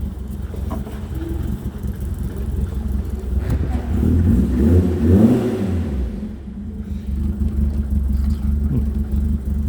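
A 1985 Ford Fiesta XR2 with a manual choke conversion revs at idle, its engine note rising to a louder peak midway, then settling back into a steady, rough idle, recorded close by.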